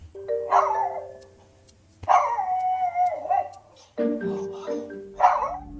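A small pug gives four drawn-out, wavering barks and yowls close by, each separated by a brief pause.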